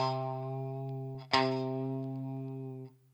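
Single sustained virtual electric guitar note from a sunburst-style software instrument, bent in pitch via MIDI, with a brief pick-like attack partway through before it fades out, heard alone and fairly quiet.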